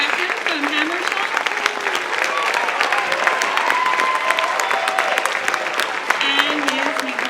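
A school percussion concert audience applauds steadily throughout, with dense, even clapping and faint scattered voices mixed in.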